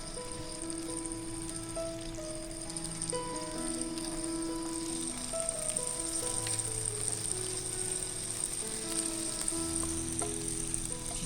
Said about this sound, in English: So we are frying it in batches, 4 at a time.